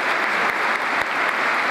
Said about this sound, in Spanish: Darle un fuerte aplauso y agradecimiento profundo a la banda militar